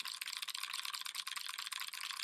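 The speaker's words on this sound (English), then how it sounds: "now I'm typing on a keyboard with Cherry MX Blues" Rapid clicky typing on a mechanical keyboard fitted with Cherry MX Blue switches, a steady close-up patter of sharp key clicks with no voice over it.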